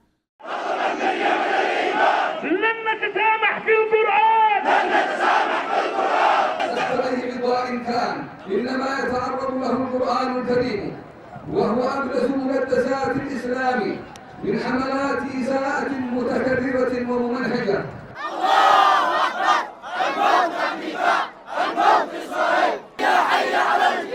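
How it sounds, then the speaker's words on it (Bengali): A large crowd of protesters in Sanaa chants anti-US and anti-Israel slogans in loud, rhythmic unison. Repeated call-and-response bursts have short gaps between them. "যুক্তরাষ্ট্র ও দখলদার ইসরায়েল বিরোধী স্লোগান দেন বিক্ষোভকারীরা"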